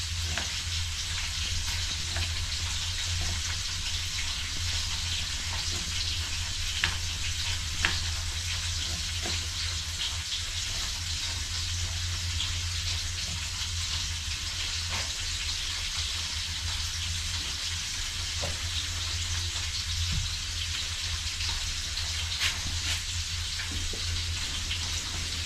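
Food fries and sizzles in a pan during home cooking, a steady crackling hiss with occasional sharper pops and stirring, continuous and close, under a constant low hum.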